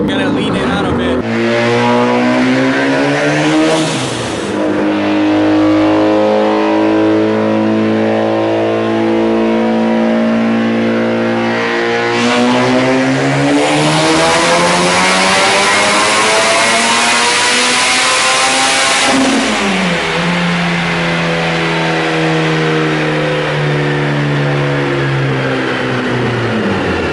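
A rotary-engine car running a dyno pull on a rich top-end tune, with tire smoke and a rubbing tire, revs loudly and continuously, its pitch sweeping up, dropping, and climbing again in long rising pulls under brief talk.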